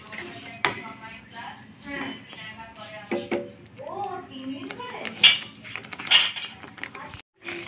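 A spoon stirring a thick milk and coconut sandesh mixture in a pan over low heat, with scattered scraping and light clinks, while someone talks over most of it.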